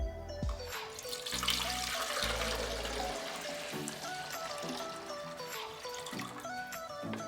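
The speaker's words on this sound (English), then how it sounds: "I'm gonna pour this back into this clear pitcher so you can get an idea of what it looks like" Lemonade pours back into a clear pitcher in a steady splashing stream lasting several seconds, with no voices.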